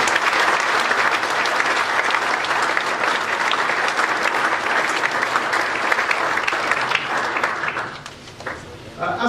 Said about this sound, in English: I'm sure you'll join me in giving them a round of applause now